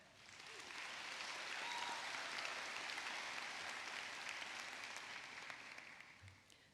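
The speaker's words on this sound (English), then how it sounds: "Graduates, please join me in a round of applause and appreciation for all of those who have helped us get" Graduates at a law school commencement give a sustained round of applause, dense clapping that swells in and slowly fades, quiet and distant as if from across a large hall.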